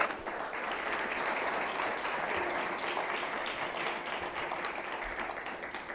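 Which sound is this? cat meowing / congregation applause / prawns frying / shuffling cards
congregation applause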